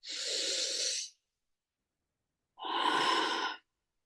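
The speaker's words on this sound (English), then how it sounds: "Breathing in." Two deep, slow breaths in a breathwork exercise, each about a second long and separated by a quiet pause, close and clear with no talking.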